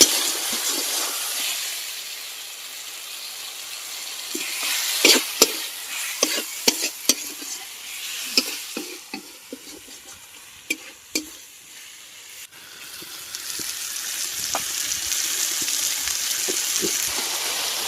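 Spice masala frying in a kadai for a shol fish kalia, a continuous close sizzle with a run of sharp scraping and stirring clicks in the middle before the hiss swells again.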